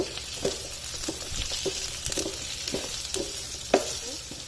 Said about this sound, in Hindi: हल्का सा ऑयल में फ्राई होने देना है ताकि इनका कलर चेंज हो जाए